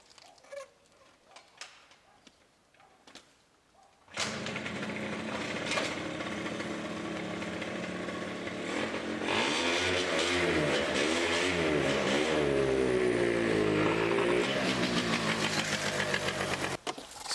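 A motorcycle engine with a freshly cleaned carburetor fires up abruptly after quiet handling noises, then runs loud and near, climbing into uneven revs with rising and falling pitch.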